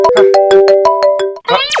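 A mobile phone ringtone for an incoming call, a bright electronic melody of short repeated tonal notes played loud and close, ending in a rising sweep.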